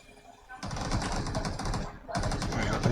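Rapid automatic gunfire in the PUBG battle royale game, a dense run of shots starting about half a second in, briefly pausing near two seconds, then resuming loud with speech mixed in.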